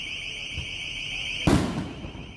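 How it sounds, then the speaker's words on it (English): Mortar shell fireworks exploding amid a street protest crowd, one sharp loud blast followed by a crackling, fading rumble, heard over a steady high-pitched alarm tone that runs throughout. "There's mortar shells that have ended up inside of the crowd over here."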